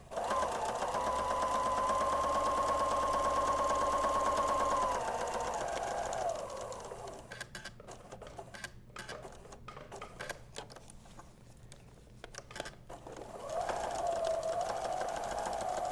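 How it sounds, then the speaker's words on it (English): A sewing machine runs steadily while top stitching the edge of a fabric casserole carrier, a continuous motor whir for several seconds, then quieter handling noise and a brief burst of stitching near the end. "So I'm just coming around the last corner of my top stitching."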